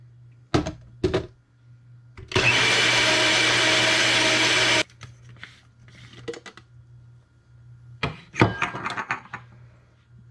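Mustard seeds being ground with vinegar into a thickening paste, heard as a steady, loud, dense grinding whir lasting a couple of seconds, framed by a few sharp knocks and clatters before and after.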